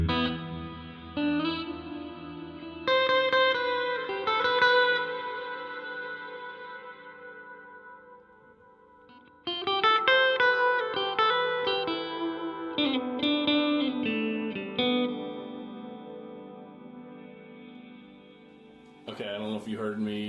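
Electric guitar played through a Donner delay and reverb pedal with tap tempo, ringing chords and notes trailing off in washy echoes, a pause, then more phrases as the tone control is turned, ending on a brighter strum.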